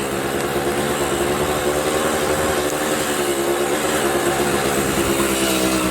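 A 1970 Kawasaki Bushmaster motorcycle ridden around a yard gives a steady, close engine drone with a constant buzzing tone, no speech over it.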